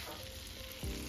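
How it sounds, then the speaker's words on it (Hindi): Butter melts in a hot pan with a soft, steady sizzle, which swells into a louder burst near the end. No voices are heard. "मैंने ये बटर लिया है, इसको आधा में मेल्ट करूंगी"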